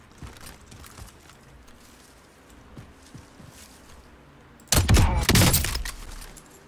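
Gunfire in the video game Warzone: scattered faint clicks and thuds, then a loud burst of rapid shots lasting about two seconds near the end.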